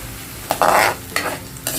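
Ginger and garlic frying in a pan for spicy shrimp bagoong, with short bursts of stirring and sizzling, one louder scrape-and-sizzle in the middle and fainter ones after it, close by and with no talking.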